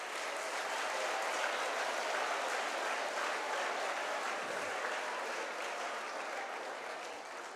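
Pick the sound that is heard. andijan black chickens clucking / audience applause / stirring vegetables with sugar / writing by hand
audience applause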